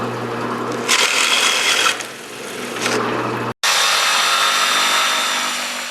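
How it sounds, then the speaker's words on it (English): A drill press bores handle holes through wooden side pieces for storage boxes, a steady close machine whir with louder bursts as the bit cuts, a brief break near the end, then the motor running on. "I've taken 8 of the side pieces over to the drill press to drill the holes for the handles."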